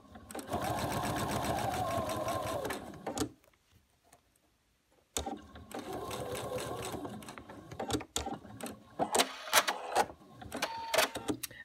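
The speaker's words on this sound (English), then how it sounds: "So I'm gonna go ahead and sew 1/4 inch seam." A sewing machine stitches a quarter-inch seam through quilting fabric for a half square triangle unit, running in two steady bursts of rapid mechanical whirring separated by a short pause, then a few scattered clicks and handling sounds close by.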